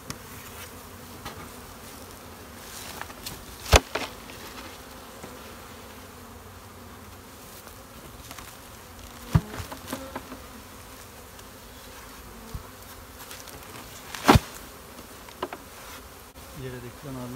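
A dense, steady buzz of many bees around hives fills the scene without a break, during queen bee breeding work. A few louder knocks and handling sounds come through now and then, and nobody speaks.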